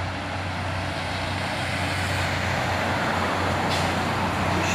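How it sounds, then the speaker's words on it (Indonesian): A Hino truck grinds up the steep Bukit Kodok hill climb, a steady, loud engine drone with road rumble that holds constant, surrounded by continuous traffic noise. "Satu unit truk Hino, bosku."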